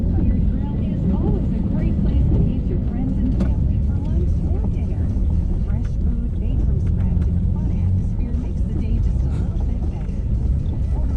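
A Ford Taurus engine running, a loud continuous low rumble held steady throughout, with people talking over it.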